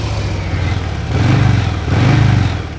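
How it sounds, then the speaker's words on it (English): A Harley-Davidson Breakout motorcycle's exhaust rumbles in a deep, loud low-pitched burble that swells twice in a pair of throttle blips over a steady idle. "That sound from that exhaust, that's what it's all about."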